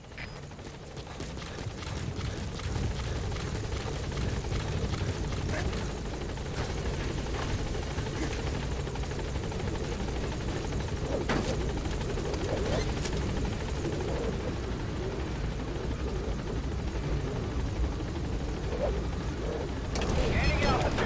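The Pequod helicopter from the video game Metal Gear Solid V flies with a continuous rotor drone and thumping throughout, joined at times by in-game sounds and voices.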